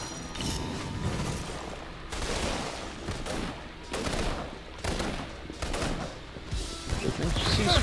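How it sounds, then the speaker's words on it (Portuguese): Gunfire in the video game Infamous Second Son, with a sudden shot amid a dense, continuous game soundscape of mechanical clatter and rumbling action, fairly loud throughout with a faint voice now and then. "De repente se escuta um tiro assim do nada, né?"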